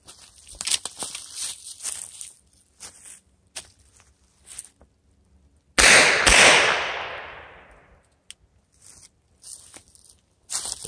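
A Colt Police revolver chambered in .32 Smith & Wesson fires one or two loud, sharp shots close together, their echo trailing off over a couple of seconds amid quiet handling rustles.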